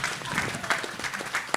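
Brief burst of audience clapping at a heritage symposium morning session, moderately loud with uneven claps and a voice briefly audible over it.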